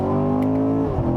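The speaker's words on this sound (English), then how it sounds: "I can just floor it and listen to those freaking shifts when this thing bangs off gears" A 2018 Chevrolet Corvette Grand Sport engine droning loudly under hard acceleration, its steady harmonic tone dropping sharply near the end as it shifts gears, heard up close inside the car.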